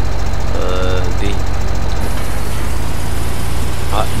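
A harvest machine's diesel engine runs loud and close with a constant heavy rumble and a rapid low throb, steady throughout, with faint voices under the noise.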